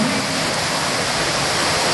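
Rain comes down steadily in Batu Aji, a dense, even hiss of broadband noise that fills the whole short stretch with no pauses and no voices.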